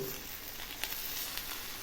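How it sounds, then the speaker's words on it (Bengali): Hot oil sizzling steadily around fish paturi in a covered pan, a continuous crackling hiss with a few sharper pops, close and fairly loud. "এই যে তেলগুলো চিটচিট করছে।"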